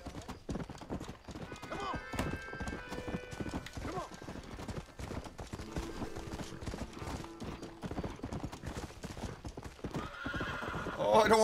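A horse in the Red Dead Redemption video game gallops with rapid, steady hoofbeats and whinnies near the end, while someone talks over it.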